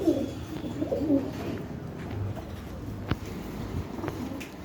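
Pigeons at a poultry market coo in soft, low, throaty bursts near the start and then intermittently, set against a steady murmur of market background noise.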